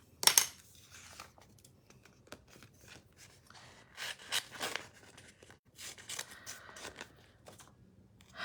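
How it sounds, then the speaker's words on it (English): Scissors snip through stamped paper for a mask, with irregular crisp cuts, rustles and crinkles close up, separated by short pauses, and no talking. "And then we're gonna get scissors."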